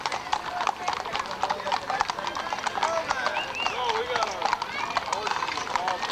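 Horses in a costumed parade clip-clop steadily along the route, a dense run of hoof strikes at moderate distance, with a neigh and people talking throughout.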